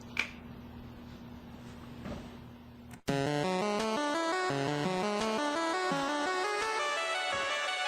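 After a quiet hiss and a few faint clicks, a bright electronic chiptune melody abruptly kicks in, fast stepping square-wave notes, loud and steady.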